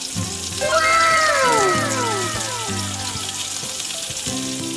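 Fried milkfish (bangus) drops back into simmering adobo sauce in a pan, with a loud burst of sizzling and bubbling near at hand that settles into a steady simmer, and a voice briefly heard underneath.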